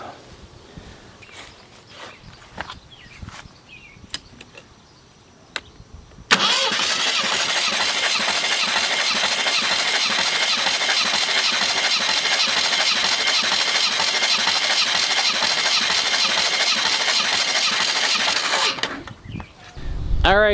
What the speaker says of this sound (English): before we pull the engine, we wanted to do this compression check while it was still mounted in the chassis